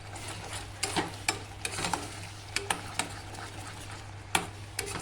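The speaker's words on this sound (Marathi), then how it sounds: "आता वाटलेला सौदा मी याच्यात टाकून घेणार आहे आणि छान तेल सुटेपर्यंत मी त्या मसाल्याला परतून घेणार आहे" Ground masala for aloo matar sautéing in oil, with a soft frying sizzle under repeated scraping and stirring strokes of a spoon against the pan, irregular and fairly close.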